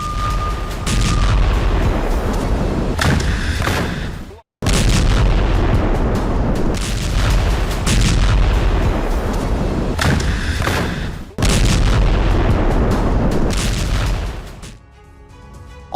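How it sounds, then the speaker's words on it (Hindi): Israeli bombardment shakes residential areas of Khan Younis, Gaza: loud, sustained booming roars that break off abruptly twice, then trail away into a quieter rumble near the end. "खान यूनिस में इजराइल की बमबारी"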